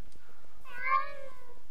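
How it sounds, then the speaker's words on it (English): A single clear cat meow from the Mo' Creatures mod in Minecraft 1.6.4, one drawn-out rising and falling mew of about a second, close and clean against near silence. "we've got a cat over there, which obviously isn't in the normal Minecraft"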